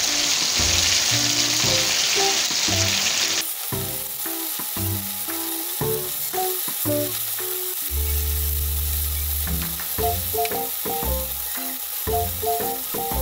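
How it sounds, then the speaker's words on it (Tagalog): Chicken sizzles loudly in hot oil in a pan, a bright steady frying hiss that drops as the pieces are flipped, followed by clattering pan and utensil knocks over continued sizzling. "Yan nga at binabaliktad ko na nga yung chicken."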